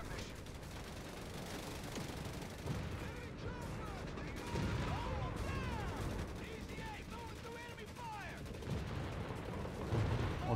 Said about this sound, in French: Oh, les tanks et les obus d'artillerie.